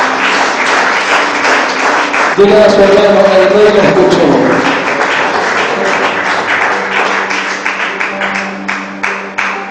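A church congregation breaks into loud, sustained applause under a preacher's raised voice, the clapping swelling across the hall and then thinning into scattered, rhythmic claps toward the end.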